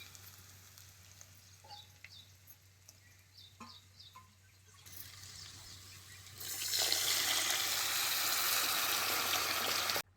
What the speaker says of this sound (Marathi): जेवढं तुम्हाला कालवण करायचं आहे तेवढं पाणी घातलं तर पण चालतंय